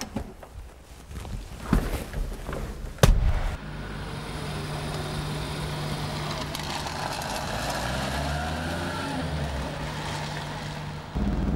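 A Vauxhall HB Viva 1100 classic car drives along with a steady, close engine drone and low rumble, changing in pitch as it moves, with a couple of sharp knocks before the engine note settles.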